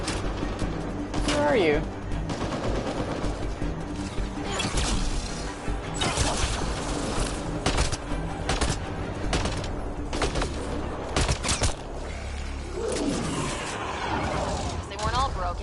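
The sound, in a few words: enemy gunfire in the video game Mass Effect Andromeda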